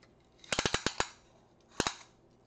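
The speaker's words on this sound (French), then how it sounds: "Donc, là, je vais venir couper mon Tiger Tail." Tiger tail beading wire is snipped with cutters: a quick run of five or six sharp, crisp clicks, then a pause and two more close snips.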